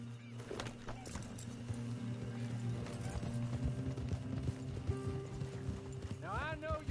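Horse hooves clip-clop in the Red Dead Redemption 2 video game, a steady trotting rhythm up close, with game music, a horse whinny near the end and a voice talking over it.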